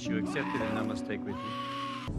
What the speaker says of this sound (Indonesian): ketua suku planet itu menghadiahi si Thor dengan 2 ekor kambing yang ukurannya sangat besar.